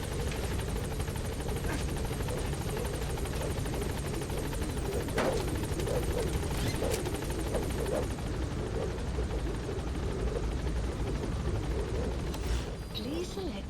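The Pequod helicopter in Metal Gear Solid V: The Phantom Pain gives off a steady rotor thrum and turbine whine throughout, with brief game sound bursts scattered across it and the tone thinning near the end.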